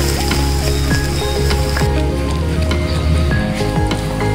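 Five eggs sizzle in a pan with fried masala as they are stirred, a steady loud crackle of frying with repeated scraping strokes of the spoon against the pan and no talking.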